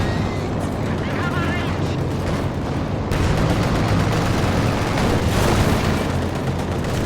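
Explosions from an attack in a company-versus-company real-time strategy game hit Grenadiers and a Pioneer. Dense, loud, continuous booms and crackling gunfire roll on for several seconds, and a caster talks excitedly over them.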